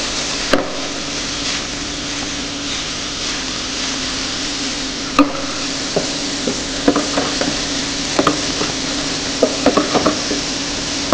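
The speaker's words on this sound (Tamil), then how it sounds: "இந்த சுண்டலை நம்ம இதில் மிக்ஸ் பண்ணுறோம்" Boiled karamani (cowpea) sundal stirred into a hot tempering in a pan, a steady sizzle with scattered scrapes and clacks of a spoon against the metal pan, close and alone.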